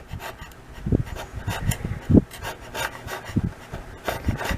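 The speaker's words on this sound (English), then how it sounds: "we're actually scraping the plastic top of this off, or whatever's on here" Plastic coating is scraped off a wood planer blade in rough, uneven rasping strokes, several close, fairly loud scrapes at an irregular rhythm.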